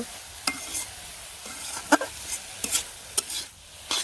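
Leafy greens frying in oil in a pan, stirred with sharp scraping clicks at an irregular pace over a soft, steady sizzle, with no voices.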